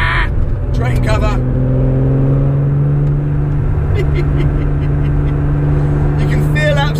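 Porsche 911 restomod driven steadily on a road, a low steady engine drone with faint tonal hum running throughout, fairly close and continuous, with brief chirps and light rattles on top.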